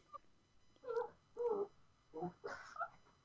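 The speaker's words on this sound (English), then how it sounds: "Sorry, I think my dog saw a cat in the garden or something. It's going nuts." A pet cat and a dog reacting to each other in a garden, giving several short, close yowling cries in quick succession with brief gaps of quiet between them.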